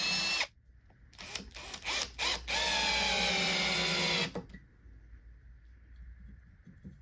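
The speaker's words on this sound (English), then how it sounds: "Let's get the pipe in and put a screw through the side." A power drill driving a screw through the side of a pipe: a short burst, a few stuttering pulses, then a long steady whirring run that stops abruptly, leaving a faint electrical hum.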